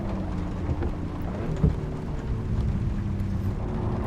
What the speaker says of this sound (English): Driving like this in the rain is really relaxing